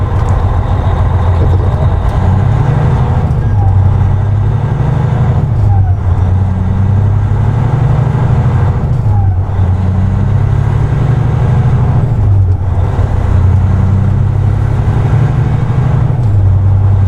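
Freightliner RV hauler truck pulling away in drive, its loud, steady engine drone rising and falling in pitch as it moves, with no talking.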